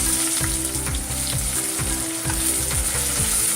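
Onions frying in a pan with bay leaf, shahi jeera and fennel for a vegetarian biryani, giving a steady, loud sizzle with a rhythmic scraping of the spatula. No one talks.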